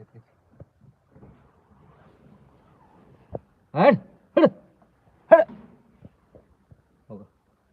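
A dog barks three times in a quiet outdoor setting, with a few faint knocks and soft sounds between the barks.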